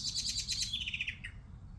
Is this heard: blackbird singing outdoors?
yes